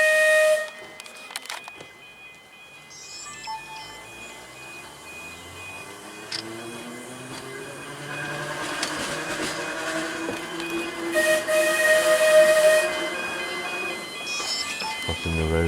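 The Seaton tramway tram runs along its line with a rising and falling motor whine, hissing, clattering rumbles and a bell or whistle tone, heard from on board at moderate loudness.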